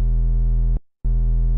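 A sine wave hard-clipped digitally in Ableton, flattened at the top, gives a steady buzzy tone rich in harmonics. It is loud and sustained, drops out briefly near the middle and then resumes unchanged.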